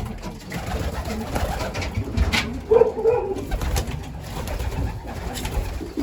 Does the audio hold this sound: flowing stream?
no